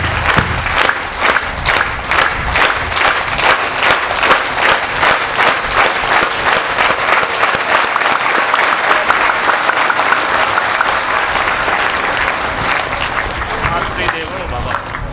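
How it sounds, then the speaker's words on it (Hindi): An audience claps hands steadily together in honour of their parents at a devotional gathering, a dense, loud, continuous applause that fills the whole stretch. "हाथ खोलो, ताली बजाओ अपने माता पिता के सम्मान में।"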